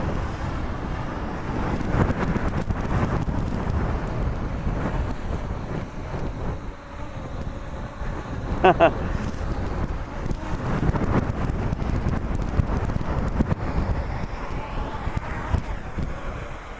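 Strong wind gusts buffet the microphone outdoors in high wind while a small drone is flown, a constant low rumbling roar that swells and dips throughout with no speech.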